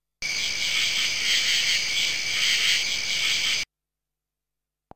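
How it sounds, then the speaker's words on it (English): Steady, continuous cricket chirping, a dense high trill lasting a few seconds before cutting off abruptly into silence. "Cricket."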